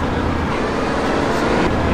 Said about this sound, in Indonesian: Ini mobil kencang, handlingnya bagus.